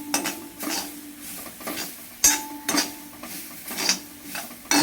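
A spoon scrapes and clinks against a pan as carrot thoran with coconut, turmeric and cumin is stirred, giving steady rhythmic scraping with sharper metallic knocks and no voices.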